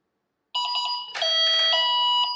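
An RC car Vector SR80 Pro electronic speed controller, set with a Flysky GT3C remote, gives bright electronic calibration beeps when the battery is plugged in with the throttle held full: a quick run of short chirps, then longer sustained tones.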